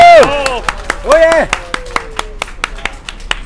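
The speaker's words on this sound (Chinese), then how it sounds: "俾掌声好唔好啊？" Scattered hand clapping from a small audience at the closing of the Universal Model UML flagship store, a steady run of sharp claps following a brief burst of nearby talk.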